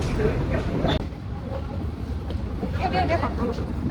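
A crowd mills around Hua Hin railway station in Thailand as a train rumbles nearby, with a low mechanical drone beneath close, overlapping voices and busy chatter.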